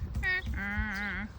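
A person imitates a donkey's call with one short high note followed by a longer, drawn-out bleating tone, heard close and alone at an allotment.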